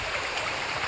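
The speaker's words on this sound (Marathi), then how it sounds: "गावच्या आपला नदी असते ना तसं पाणी येतो आहे" A forest stream on the Karnala Fort trek flows like a village river, a steady broadband rush of moving water heard close and continuous without voices.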